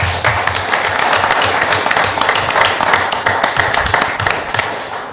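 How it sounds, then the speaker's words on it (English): An audience at a city council meeting gives a round of applause, loud close clapping from a moderate crowd with individual sharp claps standing out over a low rumble of the room. "Please give them a round of applause"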